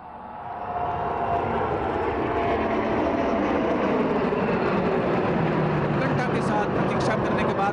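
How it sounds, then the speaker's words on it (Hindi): A P-8I aircraft flies in formation with two MiG-29 jets over a Republic Day parade, a loud broad jet roar swelling in and holding steady, with voices heard among the crowd. "P-81 विमान को दो अन्य MiG-29 विमानों के साथ हम देख सकते हैं पोसाइडन फॉर्मेशन में"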